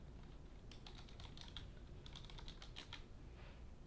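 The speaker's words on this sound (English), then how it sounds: "Just the sound and the feel of the keys is just completely different." Typing on a Razer Ornata Chroma keyboard comes as quiet bursts of rapid key clicks separated by short pauses, soft and close over a low background hum.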